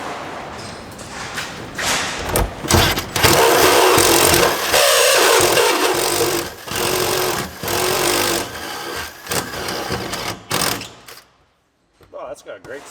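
A power drill bores holes for a Draw Tite trailer hitch on a 2009 Toyota Camry Hybrid, a loud, rough, continuous grinding whir that surges and dips over several seconds before stopping abruptly.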